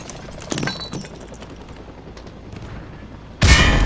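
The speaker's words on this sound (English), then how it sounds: "Toss the grenade down the range to take out several targets at once." Frag grenade explosion in Call of Duty Modern Warfare 2 Remastered on a firing range: after a few faint clicks and taps comes a single loud, sudden blast near the end, with no talking.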